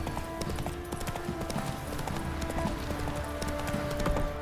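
Steady clip-clop of horse hooves on a hard surface in the video game The Witcher 3: Wild Hunt, a rapid repeating rhythm under a low ambient drone, fairly quiet and continuous throughout.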